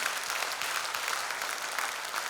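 An audience applauds steadily at an Armenian stage show, a dense wash of clapping hands throughout.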